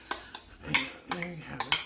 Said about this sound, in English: And the banana. I'm going to scoop that in there.